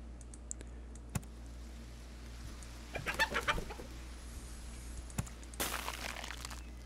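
A cartoonish chicken clucks in a video game, a few short clucks and squawks over a quiet hum, mixed with sharp clicks and a brief clattering burst near the end.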